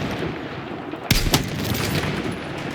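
Video game gunfire crackles with sharp shots at close range, a sudden burst of loud cracks followed by continuing rapid fire against a busy background.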